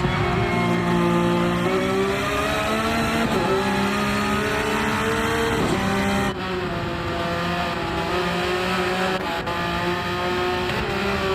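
Onboard engine note of a Porsche race car in a racing video game at the Nürburgring, a loud sustained howl rising and falling through gear changes, with brief shifts and steady revving throughout.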